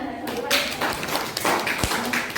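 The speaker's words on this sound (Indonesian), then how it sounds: "Silakan beri tepuk tangan." A classroom of students clapping on cue, a short burst of close, sharp hand claps with a few scattered taps and a voice or two mixed in.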